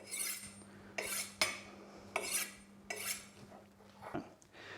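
A knife scrapes along a honing steel from heel to tip in about six quick metallic strokes, alternating sides at a steady rhythm, fairly quiet and close.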